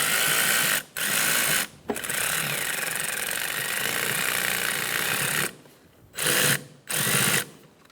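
A power driver snugs a hose clamp on the throttle body intake boot of a 2012-2020 Chevrolet Sonic, whirring loudly and steadily up close with several short stops and restarts toward the end.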